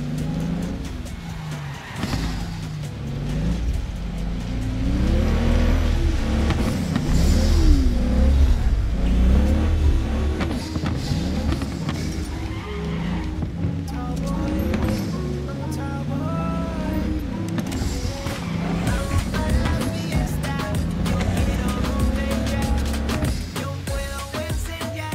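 A car engine roars steadily while racing in Cyberpunk 2077, a loud sustained droning hum rising and falling in pitch with gear changes, with game music layered over it throughout.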